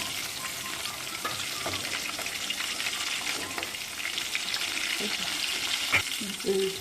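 Green chillies fry in hot oil in a pan for a Telugu chicken curry, giving a continuous close sizzle and hiss with occasional scraping stirs and small clinks near the end.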